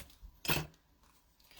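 Scissors snip through paper on a craft table in a single short, close cut, with a brief rustle before it and quiet afterward.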